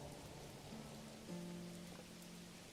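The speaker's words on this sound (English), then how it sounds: "A lot of rain." Steady rain falling across a medieval village in the strategy game Manor Lords, a soft continuous hiss with faint musical tones drifting over it and no talk.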